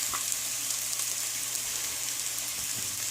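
Onions frying in a pan for Tamil-style egg podimas, a steady, even sizzle of oil running unbroken throughout at moderate loudness, with no talk.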